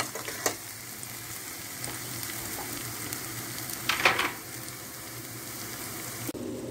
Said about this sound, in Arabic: البصل ديالنا وديك التوم والقريعة هي تشحرت